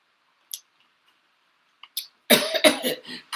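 Close, loud coughing fit from one person: a few faint clicks and small sounds first, then a burst of four or five rough, rapid coughs at the end.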